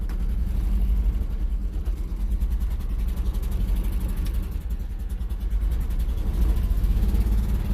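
A cold-blooded old car with the choke just turned off pulls away in first gear, its engine droning steadily at close range with small swells as the throttle is held open.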